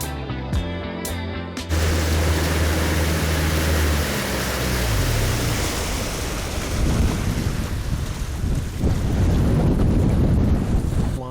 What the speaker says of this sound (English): It's small body water, but the wind is just annoying